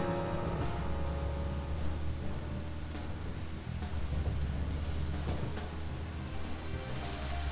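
Steady, even rain from the Deadly Premonition: Director's Cut video game, a continuous hiss over a low rumble with no breaks, heard on its own throughout.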